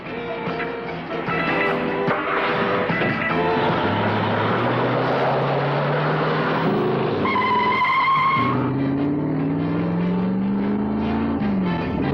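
Drag racing cars from 1980 accelerate down a quarter-mile strip, loud engines roaring and rising in pitch as they run, with a brief skid-like squeal partway through and continuous motor noise throughout.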